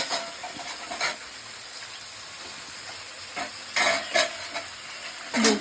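Food cooks in a pan with a continuous hissing sizzle, broken by a few brief bursts of louder frying and stirring, heard close against a steady background hum.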